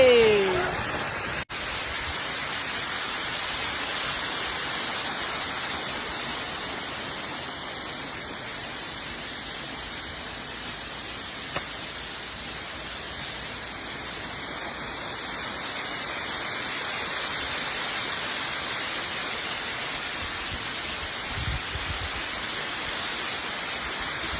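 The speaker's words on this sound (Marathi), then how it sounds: "पाहू शकता धबधबा कसा आहे" A steady, dense rush of falling water from Varasgaon waterfall near Pune fills the whole stretch, constant and fairly close, with no voices over it.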